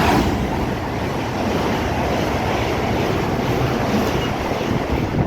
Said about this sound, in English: passing through now are some 730s going from Crewe to London Euston.